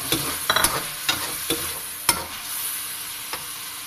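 Capsicum and chicken stirred and fried in a pan, a hissing sizzle broken by several sharp spatula scrapes and knocks against the pan, close and fairly loud, with no talking.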